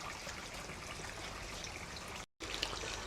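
Fresh water trickles and splashes steadily into a second garden fish pond for Doitsu Showa koi fry, close and continuous, with a brief dropout near the end before the flow resumes.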